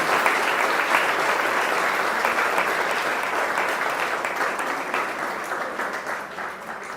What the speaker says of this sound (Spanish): vamos a darle un aplauso a la Virgen de Guadalupe que viene llegando a la comunidad